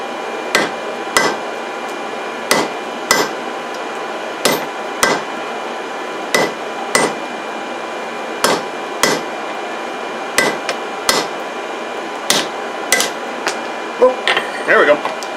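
Hammer blows ring out on hot steel during the forging of a rope cleat. Single sharp strikes fall in pairs and small clusters with short gaps between them, close and clear over a low hiss of background noise.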